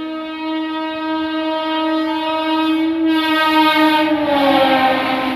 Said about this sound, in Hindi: लगभग 36 मिनट की डिले से अपनी ट्रेन पहुंच चुकी है खुर्जा जंक्शन।